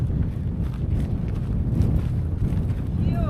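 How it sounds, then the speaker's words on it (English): Strong wind on a high mountain ridge, a constant low rumbling buffet against the microphone with gusty swells, brief birdlike chirps near the end. "Oh, the wind is blowing stronger now."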